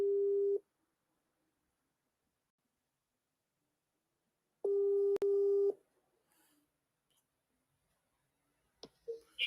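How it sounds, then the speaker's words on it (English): A telephone ringback tone on an outgoing call to Ghana sounds as two steady buzzing bursts separated by a long silent pause, with a sharp click during the second burst and faint line crackles afterward. "Let me try and call that caller back."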